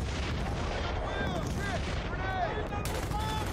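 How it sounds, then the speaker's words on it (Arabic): Cannons firing in Battlefield: Bad Company on PS3, a dense continuous barrage of booms and gunfire with whistling projectiles arcing overhead, loud and close throughout. "سيتم إطلاق المدافع فورا"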